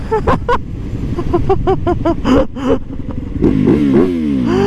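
A motorcycle engine is revved repeatedly close by, in a series of quick rising blips with a harsh mechanical edge, ending in a longer climbing rev.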